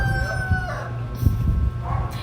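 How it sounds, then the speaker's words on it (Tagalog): A rooster crows close by in a drawn-out call, with clucking fowl and a low background hum. "yung aking music background na tilaok ng manok"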